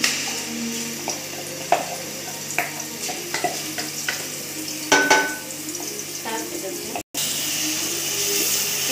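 Spice paste for chicken sizzles in hot oil in a pan, a steady frying hiss with scattered pops and the clink of a stirring spoon, close by, with a voice talking over part of it and a brief dropout near the end.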